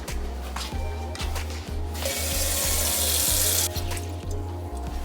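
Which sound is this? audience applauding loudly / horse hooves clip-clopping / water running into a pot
water running into a pot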